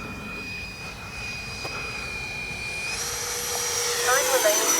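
A Freewing 80mm MiG-21 RC electric ducted-fan jet flies on its maiden flight, a steady high whine that rises into a louder rushing scream as it passes nearer, over outdoor background noise.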